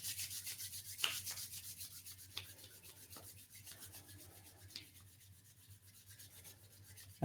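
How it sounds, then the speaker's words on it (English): Hands rubbing together during a shiatsu face routine: a continuous soft, close swishing friction with a few faint taps, over a low steady hum. "nice face routine, rubbing your hands together."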